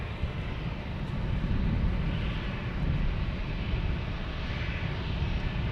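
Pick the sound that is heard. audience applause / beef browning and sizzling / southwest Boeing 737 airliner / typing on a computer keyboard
southwest Boeing 737 airliner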